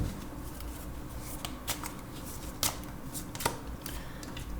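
Oracle cards for a love and career reading are shuffled by hand: a soft continuous riffling of card stock with a few sharper snaps as cards are tapped or split, close and quiet with no talking.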